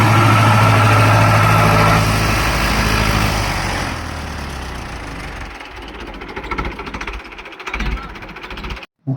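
A John Deere or Hindustan tractor engine idles loud and close, a steady rumbling throb that softens slightly midway before a brief cutoff near the end; no voices.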